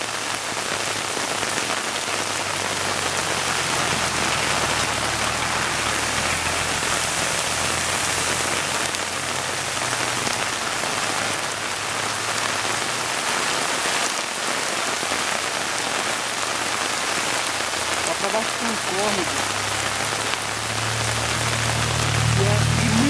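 Heavy rain pours over Sarandi, Paraná, with runoff water rushing through the streets, making a dense, unbroken roar that stays loud and close the whole time.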